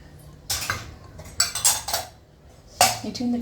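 Puri dough mixed with oil in a metal bowl makes scraping and clinking as a spoon stirs against the dish, coming in a few loud close bursts with short pauses between them and no talking.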